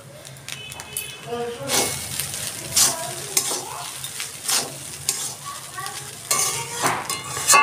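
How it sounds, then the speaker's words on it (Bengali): Leftover rice stir-fries in a hot pan with repeated scraping and clinking of a spatula as it is stirred and tossed, steady frying hiss underneath. "দেখুন ভাতটা আমার প্রায় ভাজা হয়ে গেছে।"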